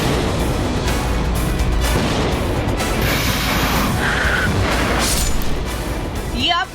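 Loud, continuous rumbling blasts and crashing booms of an Israeli strike on Tabriz, Iran, with a dense roar of explosions throughout and a sharper crackle near the end.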